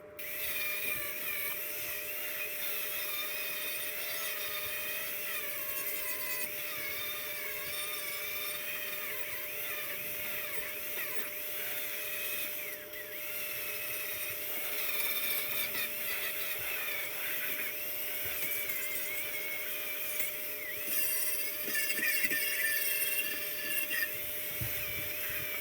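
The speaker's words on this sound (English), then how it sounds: "let's get these spot welds ground down and get this thing ready to get tacked into place" Grinder working down spot welds to bare metal on a wrecked 2014 Subaru WRX body: a faint, continuous high-pitched whine with wavering pitch that runs steadily for about 25 seconds.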